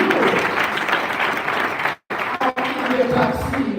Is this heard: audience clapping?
yes